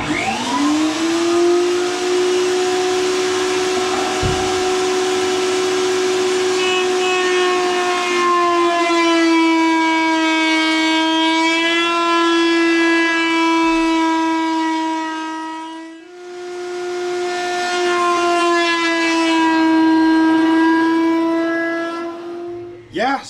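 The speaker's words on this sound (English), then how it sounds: "Now we'll round all the corners to make them look nice." Table-mounted machine shapes the corners of winch handles with a loud, sustained whine, steady in pitch, that briefly drops away and then resumes, heard close with no talking.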